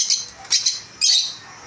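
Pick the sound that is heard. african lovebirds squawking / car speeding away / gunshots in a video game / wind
african lovebirds squawking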